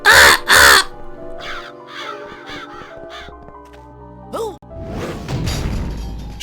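Crows in the video game Psychonauts give two loud, harsh caws up front, followed by scattered softer calls, a sharp whack and a whooshing swell of game sound.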